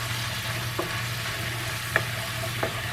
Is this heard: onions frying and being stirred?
yes